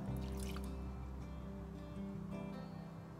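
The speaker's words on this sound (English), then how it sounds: "I'm going to add a little water." Water being poured into a saucepan of liquid glucose while making honeycomb toffee, a quiet steady trickle close to the microphone over a low kitchen hum.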